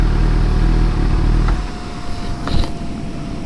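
A sport motorcycle parked outdoors, its loud, close engine rumbling steadily before cutting off abruptly partway through, leaving quieter open-air background noise.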